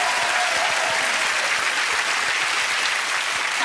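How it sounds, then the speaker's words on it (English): Thick, loud studio audience applause on the Blankety Blank game show, a dense continuous roar of clapping that holds steady throughout without any talk. "Give it a big round of applause."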